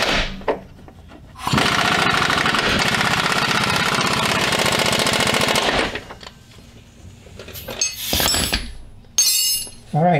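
Power tool tightening a rear lower control arm bolt on a 1999-2010 Jeep Grand Cherokee: a loud, rapid hammering impact-wrench burst of about four seconds, followed by quieter clanks and short metallic bursts.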